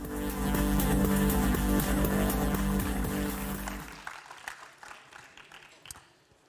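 A burst of audience applause, dense and sustained at first, then thinning into scattered individual claps that fade out.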